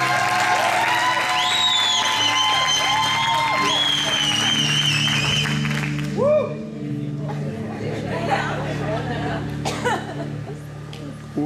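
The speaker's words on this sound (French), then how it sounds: "sous vos acclamations" An audience at a church gathering applauds and cheers as a speaker is called up. The clapping is dense and sustained for about eleven seconds, with scattered laughter and voices mixed in and a thinner patch near the end.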